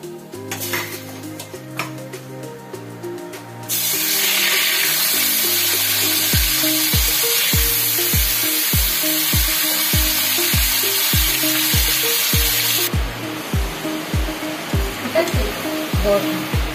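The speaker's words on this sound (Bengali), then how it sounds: "আঁচ জোরে দিয়ে 10 থেকে 15 মিনিট এবারে কষিয়ে নিতে হবে।" Marinated chicken hits a hot pan and fries on high heat, a loud continuous sizzle that starts suddenly and then runs on under a steady series of regular metallic clanks from a spatula stirring against the pan.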